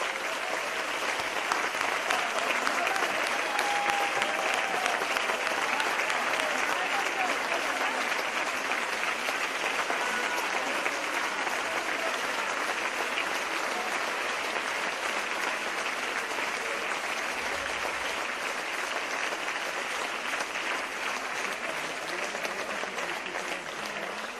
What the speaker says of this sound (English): I would like to ask the women to stand up so we can all applaud them